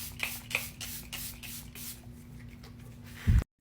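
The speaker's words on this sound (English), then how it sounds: "Set again, but this time I'm using the Charlotte Tilbury setting spray." Charlotte Tilbury setting spray misted in a quick series of about seven short, close hissing bursts at a steady rhythm, followed by a brief handling clunk; no talking.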